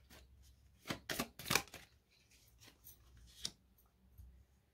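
Tarot cards being shuffled and drawn in a quiet room, a few soft riffling bursts and papery slaps in an irregular rhythm, faint and close, with no talking.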